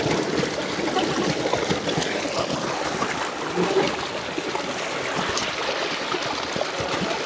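A river in Barangay Sta. Theresa, Alfonso, Cavite flows steadily, with broadband rushing and trickling water, close and continuous throughout, with no talk.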